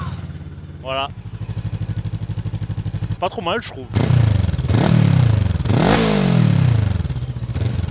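An A2-class motorcycle with an exhaust baffle fitted starts with a whirring crank and settles into a steady pulsing idle. It then revs hard several times in rising and falling surges, close by, with someone speaking briefly at the start.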